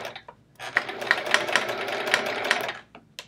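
Domestic sewing machine free-motion quilting a small piece of fabric, a close, fast mechanical stitching run of a couple of seconds that starts and stops abruptly, with brief clicks before and after.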